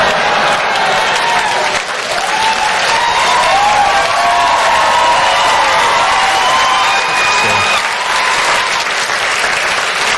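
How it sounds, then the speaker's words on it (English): A stand-up comedy crowd gives a sustained round of applause that stays loud and dense for about ten seconds, with a little cheering mixed in. "The BNP get a round of applause."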